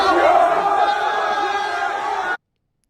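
Loud crowd at a grappling event roaring and shouting together, a dense sustained wall of voices that holds for over two seconds before stopping abruptly.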